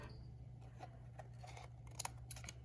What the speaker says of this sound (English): I'm going to do is take my scissors and I'm gonna trim off this bit